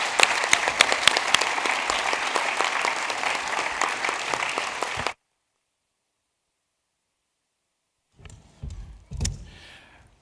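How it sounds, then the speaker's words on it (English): Audience clapping for bilingual educators at a school district board meeting, a dense, steady round of applause from a crowd for about five seconds, then silence, followed by a few faint muffled thumps and rustles. "Will you please give them a round of applause?"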